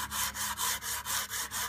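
Sandpaper wrapped and rubbed back and forth along the bevel of a knife blade, a steady rasping scrape repeating in seven even strokes with brief pauses between, close and fairly quiet with no talk.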